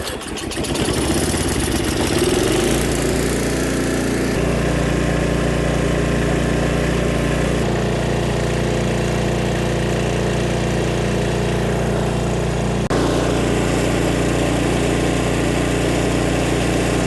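Snapper 522 snow blower engine idling steadily with a fresh fuel line, a constant loud small-engine drone with a low hum throughout, the pitch shifting slightly a few times.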